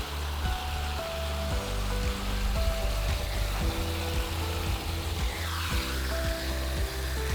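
Garden hose water pours steadily into a debris-filled house gutter fitted with a Gutter Stick, a continuous close splashing rush with a faint low hum underneath and no voices.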